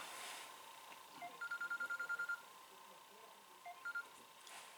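During a Hebrew grammar lecture, a telephone goes off with a quick series of electronic beeping tones, then a shorter second burst, faint and thin against a quiet room background.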